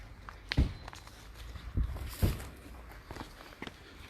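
Footsteps of one person walking outdoors, a few uneven scuffing steps close by at a slow pace, with faint background noise and no talking.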